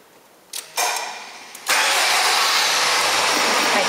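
A Subaru XV with keyless push-button start cranks briefly, then its engine catches and settles into a steady, close idle; brief clicks precede the start.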